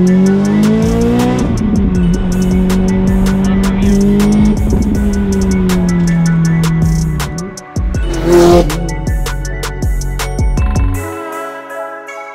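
Lotus Exige S GT Special Edition engine revving on the road, a loud sustained drone rising and falling in pitch, dipping briefly as the driver shifts, then climbing again before cutting off abruptly at the end.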